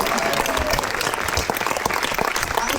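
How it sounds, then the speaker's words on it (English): Audience applause for the cast of a Matilda Jr. stage performance, steady dense clapping from a full room with no pauses. "So I'm going to give them one more round of applause"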